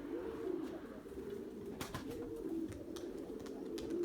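Pigeons cooing during a mixed flight of tumbling play birds, soft repeated low coos running through the whole stretch with a few faint flutters and chirps, moderately distant and quiet, no voices.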